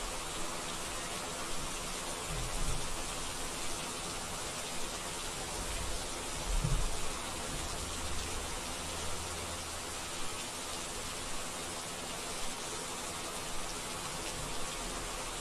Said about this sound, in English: Oh, Sam, apparently they're gonna fix rain volume soon